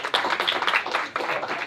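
Brief burst of audience clapping at a live magic show, several hands clapping quickly and unevenly at close range for a moment.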